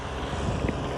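Strong outdoor wind buffets the microphone in a dense, low rumbling roar that stays steady and loud through the short moment, with no voices.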